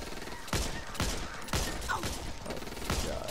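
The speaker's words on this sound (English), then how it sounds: "Shoot the damn zombie." Rapid bursts of gunfire from shooting zombies in the video game Back 4 Blood, repeating in close, loud volleys about every half second to second over a steady game soundscape.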